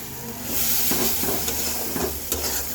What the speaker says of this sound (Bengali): ডালের বড়িটা দেওয়ার পর এটাকেও সুন্দর করে একটু মশলার সাথে ভাজা ভাজা করে নেব